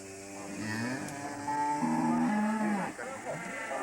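Black Wagyu cattle on a Japanese family farm moo in long, low, tonal calls close by, several overlapping bellows rising and falling across a few seconds against quiet farm background.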